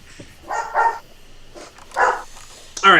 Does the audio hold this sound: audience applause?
no